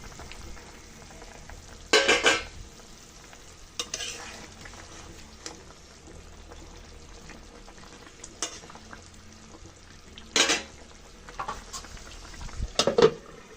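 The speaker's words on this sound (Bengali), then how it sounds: "এখন মাছটা দিয়ে একটু নেড়েচেড়ে আবার ঢেকে দেব।" Katla fish and tomato curry simmering in a pot, stirred with a utensil in a few short scraping bursts over a steady low bubbling sizzle, close and moderately loud, with no talking.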